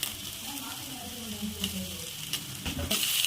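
Carrot and capsicum sizzle steadily in a hot pan for noodles, with scraping stir strokes and brief clatters over a continuous frying hiss.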